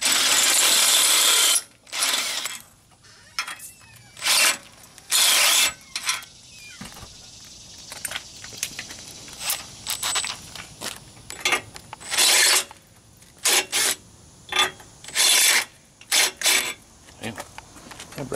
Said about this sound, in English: That brand new unibit's cutting good